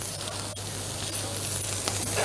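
Scottadito lamb chops searing in a hot pan give a steady, close, even sizzle that holds its level throughout, with no voices over it.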